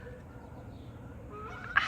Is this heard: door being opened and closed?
no